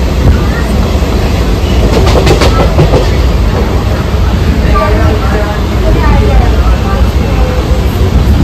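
A local train runs with a loud, steady rumble and rhythmic clickety-clack of wheels on rails, heard continuously from inside the carriage.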